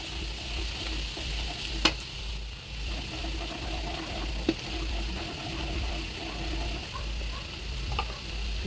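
Garlic frying in margarine in a hot pan, a steady close sizzle with occasional stirring knocks and scrapes, no talking over it.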